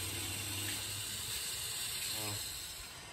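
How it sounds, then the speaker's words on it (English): Water and sludge flush out of a clogged radiator on a 1991 Nissan 300ZX Twin Turbo, a steady close hiss of rushing liquid that continues throughout and eases slightly at the end. "That sludge, it was literal sludge that was coming out of it."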